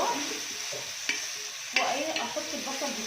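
Bessara, an Egyptian fava bean dish, being stirred in a cooking pot, with soft scraping strokes and a couple of sharper knocks of the spoon over a faint steady sizzle, no voices.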